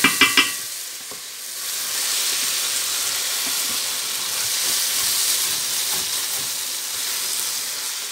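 Okra and onion fry in a covered pan with a continuous, close sizzle and hiss. A few quick utensil clinks come at the start.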